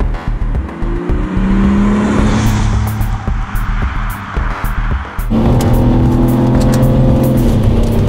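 A BMW E46 330ci engine revs hard under acceleration. It sounds loud and close, winding up, pausing for a gear change with a brief dip, then pulling strongly again.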